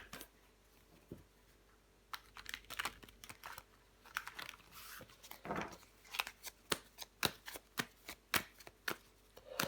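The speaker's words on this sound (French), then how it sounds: "Je vais recouvrir des cartes." Tarot cards being handled and laid down during a reading, a run of sharp close slaps, flicks and shuffling snaps that quicken toward the end, with faint room noise between them.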